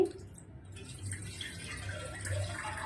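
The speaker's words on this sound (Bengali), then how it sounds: "চলো এবার দুধটা আমি ঢেলে নিচ্ছি গরম করার জন্য।" Milk poured from a packet into a cooking pot to heat for jaggery rice payesh, a soft, steady liquid trickle and splash close by, faint and continuous with no talking.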